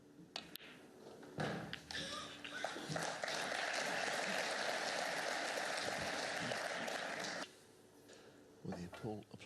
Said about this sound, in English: applause was for frame ball